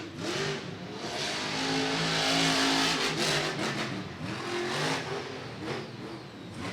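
Monster Jam monster truck revving hard as it drives onto a ramp inside a stadium, a loud, sustained engine roar that rises and falls in pitch over several seconds with crowd-like background wash.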